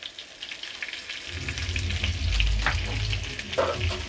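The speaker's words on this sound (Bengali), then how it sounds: "আলুটা আমি ভালো করে ভেজে নেব।" Potatoes frying with turmeric in a pan give a dense, crackling sizzle that grows louder partway through, with occasional stirring scrapes and no talk.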